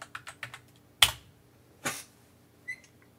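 A computer keyboard clicks as a password is typed in a quiet room: a quick run of light keystrokes, a sharper tap, then a few more scattered presses.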